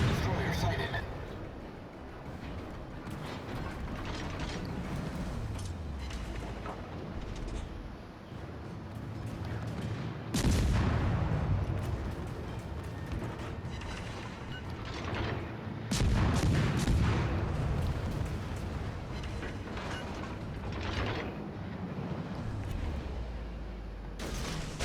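Destroyer Tashkent's naval guns fire in World of Warships Legends, heavy booming salvos striking at intervals near 10 and 16 seconds over a constant engine and sea rumble, with a voice talking throughout.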